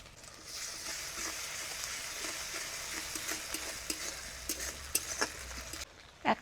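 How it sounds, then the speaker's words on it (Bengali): Ginger-garlic paste fries in a pan for a spicy aar fish curry. A continuous close sizzle carries light stirring clicks and small spatters throughout, and one sharp knock comes at the very end. "দিয়ে দেবো আদা রসুন বাটা।"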